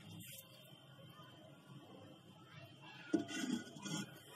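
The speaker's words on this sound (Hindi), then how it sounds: "तो दोबारा ढक्कन लगा दूंगी" A lid set onto an earthen handi pot of simmering five-lentil dal gives a single soft clunk near the end, followed by faint kitchen clatter in a quiet room.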